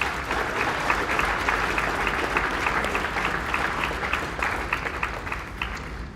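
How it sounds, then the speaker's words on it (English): A packed gym crowd at a high school boys basketball game applauds the game officials, a loud, steady wash of clapping sustained throughout with no break. "give them a round of applause"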